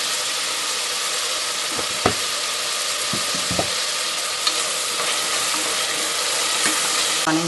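Chopped onion and tomato sauté in a pan with a loud, dense, continuous sizzle and a few light knocks from stirring.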